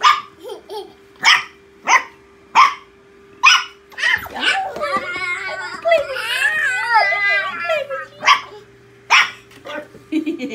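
Five-week-old puppies give sharp, high-pitched yips and barks in quick bursts, close by, with a stretch of whining and squealing in the middle and people talking nearby.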